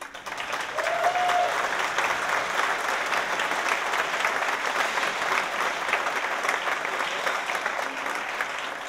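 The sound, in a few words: audience applause for a performer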